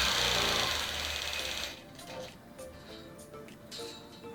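A longarm quilting machine stitches a quilt with a steady, close mechanical whir. The whir drops away after a couple of seconds into quieter ticking and handling noises.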